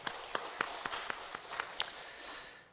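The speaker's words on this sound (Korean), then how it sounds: "하나님께 영광의 박수 돌리겠습니다." A church congregation at a Sunday morning worship service gives sparse, distinct claps, a handful of separate hand strikes spaced out over a couple of seconds, fairly quiet and tapering off.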